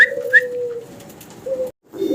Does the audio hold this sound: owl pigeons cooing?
yes